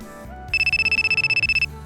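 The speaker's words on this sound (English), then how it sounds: "Oh, my phone's ringing." A mobile phone rings with a bright electronic ringtone, a rapid string of evenly pulsed high tones lasting about a second, loud and clear over a soft background music bed.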